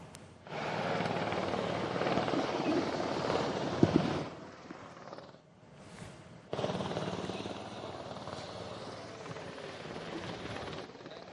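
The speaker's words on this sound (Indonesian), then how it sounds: "sudah ada 2 helikopter yang tiba di Akademi Militer" A helicopter arrives at the Military Academy in Magelang, Central Java, its loud continuous rotor and engine roar dipping briefly midway before returning strongly and holding steady.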